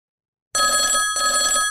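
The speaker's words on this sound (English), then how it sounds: "Oh, there's a phone coming in for you, Ashley." A telephone bell rings in two bursts after a moment of silence, loud and close, with a brief gap between the rings.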